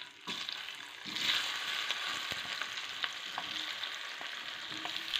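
Steamed, deseeded gooseberries sizzle in hot oil with popped mustard seeds for pickle, a steady close frying hiss with scattered crackles and stirring scrapes.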